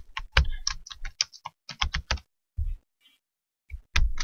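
Typing on a computer keyboard, close and clear, with fast bursts of key clicks separated by short pauses and a quiet stretch in the middle.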